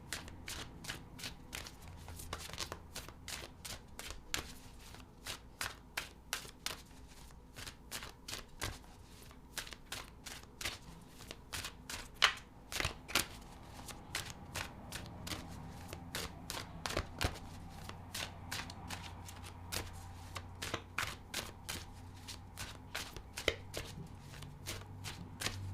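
Tarot cards are shuffled quietly and at length, a steady series of crisp riffling clicks and soft slaps close to the listener, with no talking.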